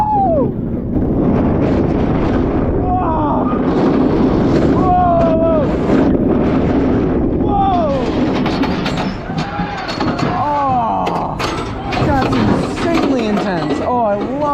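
RailBlazer roller coaster at California's Great America in Santa Clara, a loud continuous rush of wind roaring past the rider, with shouting and excited voices over it.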